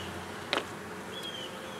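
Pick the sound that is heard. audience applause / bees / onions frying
bees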